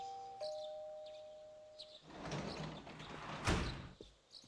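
Doorbell rings in the Persona 4 Golden video game, a two-note chime at the start, then a door sliding open and clattering, with a thump near the end.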